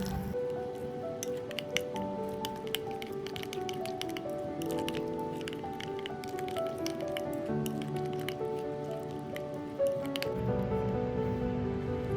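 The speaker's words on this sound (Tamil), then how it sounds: "இப்போ நம்ம தாளித்து வச்சுருக்க கடுகு உளுத்தம் பருப்பு இது கூட ஆட் பண்ணி அதையும் நல்லா மிக்ஸ் பண்ணிக்கலாம்." Curd rice being stirred together with tempered mustard seeds and urad dal, giving soft continuous squishing and wet mixing sounds with small clicks, steady and close over faint background music.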